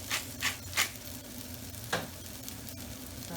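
A spoon stirs ground cumin, paprika and pepper through a sizzling frying pan for Tunisian shakshouka, with a few soft scraping strokes over a steady low sizzle.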